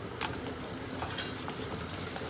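Papad sizzles in hot oil with a steady fizzing crackle and scattered small pops, close up and even throughout, with no voices.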